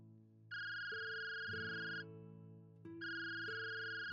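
A mobile phone rings with a bright melodic ringtone, two loud tonal phrases in a row over a short pause, heard clearly on its own.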